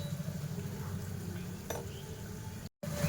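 Mutton cashew curry being stirred in a pan, giving a soft continuous sizzle with faint scraping and a light metallic clink, then a brief cut to silence before the sizzle resumes.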